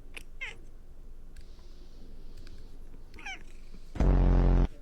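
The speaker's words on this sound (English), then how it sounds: "You're a cat." A house cat meows several times in short, close calls spread across a few seconds, followed by a louder, longer drawn-out meow near the end, with no talking over it.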